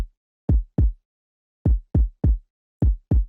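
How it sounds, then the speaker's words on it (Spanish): Isolated kick drum from a Cuban reparto beat, seven deep punchy thumps in an uneven syncopated pattern, close and dry with short decays and silence between hits. "Y vamos a comenzar por el kick."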